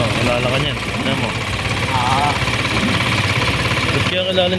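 An electric motorcycle rumbles steadily and loudly close by, with people talking over the continuous throbbing noise.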